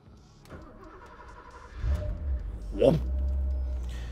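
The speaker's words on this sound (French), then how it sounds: "on va démarrer la voiture et aller rouler" A Porsche 928 GT engine cranks and catches, then settles into a deep, steady idle rumble close by.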